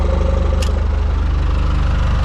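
A John Deere 555G track loader engine idles steadily up close, a loud, even low-pitched throb with a rapid regular pulse and no talking.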